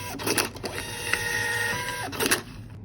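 A small receipt printer prints a test page, whirring and buzzing steadily for a couple of seconds, with clicks at the start and end of the printing.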